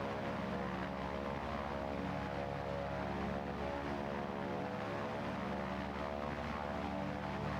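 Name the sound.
training aircraft engine climbing after takeoff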